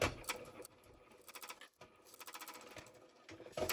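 A domestic sewing machine stitches through waterproof canvas for a small wallet in short bursts of fast, hard needle punches, with brief pauses between runs, close by and without talk.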